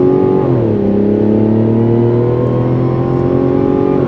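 A Mazda CX-90 turbocharged straight-six accelerating, a steady loud engine drone that dips in pitch at a gearshift near the start and then climbs smoothly, heard from inside the vehicle with no talk.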